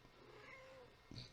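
A pet cat walking onto a desk during a podcast recording, giving a soft, brief cry near the end over a low steady room hum.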